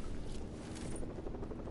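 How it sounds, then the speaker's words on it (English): A helicopter in a video game, heard as a steady, dense rotor whir that fills the whole short stretch at an even, moderate level with no talking. "You really? Helicopter?"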